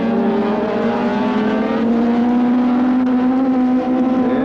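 A 1980 road-racing motorcycle, a 750 two-stroke Yamaha or a four-stroke Suzuki, screams at high revs. One engine holds a loud, steady, rising whine close by for the whole stretch, with no talk over it.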